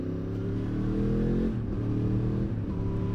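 A car engine revs loudly and steadily at close range as the driver downshifts with rev-matching, pitch dipping and rising between gears, with no voices.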